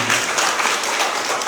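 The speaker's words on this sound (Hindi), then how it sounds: "अगर मोदी जी ने किया है तो जोरदार ताली एक बार मोदी जी के लिए" A short, loud burst of crowd applause at a political booth campaign gathering in Agartala, Tripura, with many hands clapping densely and evenly for about a second and a half.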